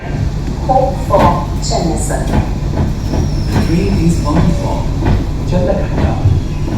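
A Bengaluru Pink Line metro train arrives at Kadugodi station, with rumbling wheels, rail clatter and brief squeals running steadily throughout, while people talk over it.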